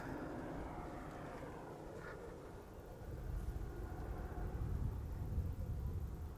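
A KLM airliner takes off from Polderbaan runway 36L at Amsterdam Schiphol, heard as a distant, broad engine rumble that swells in the second half of the clip.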